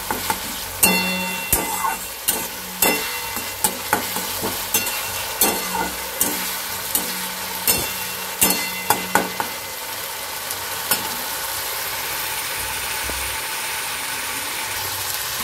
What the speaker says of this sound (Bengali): এবার আদা রসুন পেস্টটাকে 30 সেকেন্ডের মতো নেড়ে চেড়ে নিই